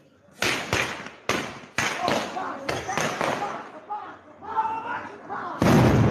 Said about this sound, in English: Throwing fireworks on the road.